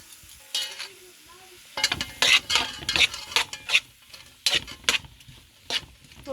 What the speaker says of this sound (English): just letting this kind of sweat in the pot